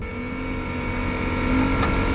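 A drag-racing car's engine running at an elevated, steady speed rather than idling after a run: a loud, continuous droning hum that swells slightly near the end.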